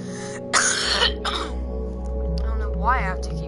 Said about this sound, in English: I don't know why I have to keep coughing,